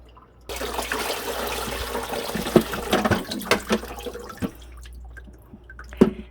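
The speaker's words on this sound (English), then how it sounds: "I'm going to pour out the dirty water" Dirty water from a Cascade aquarium filter is poured out, giving a steady splashing, dripping pour close by with a few louder sloshes and drips, then it tapers off toward the end.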